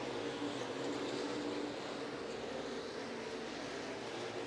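Stock cars racing under green at Eagle Raceway make a continuous broad roar of engines, fairly distant and even, washing over the track with no audible commentary.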